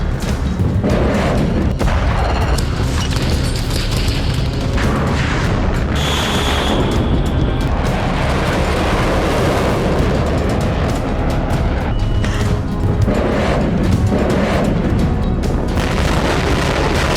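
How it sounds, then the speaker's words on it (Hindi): Destructive explosions rumble as a dense, continuous roar of deep blasts and crackling debris, loud throughout with no clear gaps. "दुनिया में ऐसे ही विध्वंसक धमाके"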